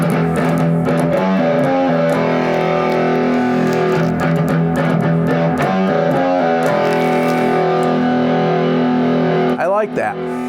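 Heavily distorted Ibanez RG6003FM electric guitar on the bridge pickup playing sustained, crunchy high-gain chords and riffs, loud and continuous, with a brief scrape near the end.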